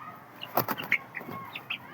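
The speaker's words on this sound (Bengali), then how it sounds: "এটাও আছে একটা মেয়ে মুরগি" A young hen, about six weeks old, gives a few soft, scattered clucks and short calls, faint and spaced out over a quiet background.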